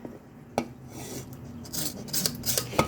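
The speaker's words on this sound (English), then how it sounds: "And just press down and scrape, see? Press and scrape." Repeated rasping scrapes of a utensil pressing along an aloe vera leaf to pull out the gel, close and fairly quiet, in short irregular strokes.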